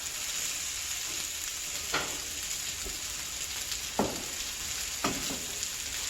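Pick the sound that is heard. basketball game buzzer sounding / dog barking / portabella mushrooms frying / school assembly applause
portabella mushrooms frying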